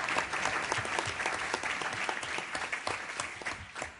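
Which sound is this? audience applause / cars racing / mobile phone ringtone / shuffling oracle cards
audience applause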